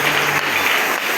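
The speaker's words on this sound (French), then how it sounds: "Acclamons encore pour le Seigneur" Steady, dense applause from a church congregation at a dawn New Year's service, loud and close and continuing throughout the short moment with no voices over it.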